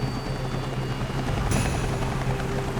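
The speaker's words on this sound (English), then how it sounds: "all of a sudden I could hear it real faintly, the helicopter sound" Steady rotor drone of a helicopter flying nearby at sea, a continuous loud whir that holds level throughout with a slight swell partway, and no voices.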